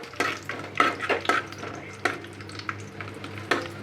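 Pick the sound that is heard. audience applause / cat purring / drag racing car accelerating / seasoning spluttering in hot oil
seasoning spluttering in hot oil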